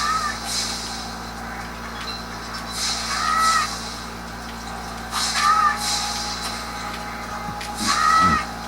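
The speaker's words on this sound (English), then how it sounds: "do the seagulls first" Seagulls in Spyro: Year of the Dragon let out several short squawks at spaced intervals over a steady low background hum from the game.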